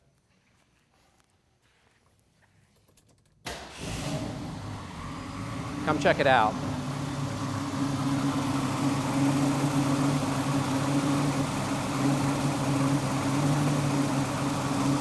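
A 1970 Ford Boss 302 Mustang small-block V8 cranks and fires after a quiet moment, then settles into a steady, rumbling idle that carries on to the end while someone speaks briefly nearby.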